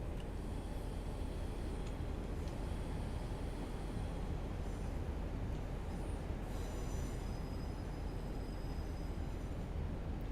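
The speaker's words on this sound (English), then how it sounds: "Lovely sound from the flanges." Flange squeal from a Class 50 diesel locomotive's wheels in Train Simulator Classic, thin high-pitched screeches coming and going over a continuous low rolling rumble of the train, with no talking.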